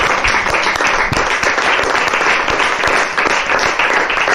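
An audience at a special broadcast presentation in Libreville applauds, dense steady clapping from many hands filling the whole stretch, close and loud with no voices over it.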